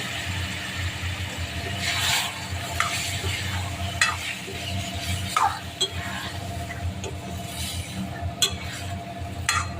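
Chopped bottle gourd sizzles steadily in a pan while a spatula stirs it, with repeated scraping clinks against the metal and a low background hum throughout, close and unaccompanied by speech.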